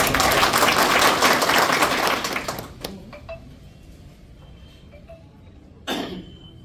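A crowd applauds loudly for a few seconds at a political party gathering in Buldhana, then the clapping fades into quieter room noise with a couple of faint knocks and a short burst near the end.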